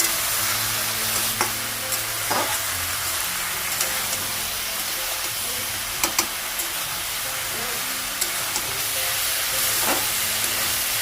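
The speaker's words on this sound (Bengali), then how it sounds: "মশলা আর বেগুন একটু ভেজে নেব" Brinjal fries with ground ginger, cumin, chilli, turmeric and salt in a pan, giving a steady sizzle and hiss with occasional stirring clinks and scrapes, close and unbroken.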